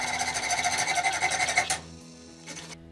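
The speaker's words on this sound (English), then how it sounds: "I started by measuring 17 centimeters of a copper pipe and sawing it" A hacksaw rasps steadily back and forth through copper pipe, loud and close, then stops, leaving a faint hum.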